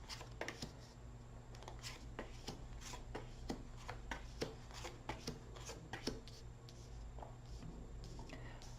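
Tarot cards being shuffled and pulled: faint soft riffling with many quick crisp flicks and taps at irregular rhythm, close and quiet, no talking.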